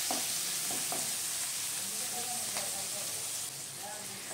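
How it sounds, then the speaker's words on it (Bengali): Tomato frying with a little salt in a pan for a Bengali bottle gourd dish, giving a steady close sizzle with a few soft stirring scrapes. The sizzle drops slightly near the end. "টমেটোটাকে এবারে 2-3 মিনিটের জন্য ভেজে নেব যাতে টমেটোটা হালকা নরম"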